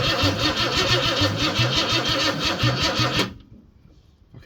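A Ford Cortina Mk4 Ghia 2.3 V6 runs loud and close with a steady rhythmic popping pulse, as from an air leak, then cuts out abruptly, leaving near silence.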